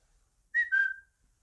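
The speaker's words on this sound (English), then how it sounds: "he heard somebody whistling behind one of the closed doors" Two short whistled notes, the second one sliding and held a little longer, clear and fairly close in an otherwise quiet room.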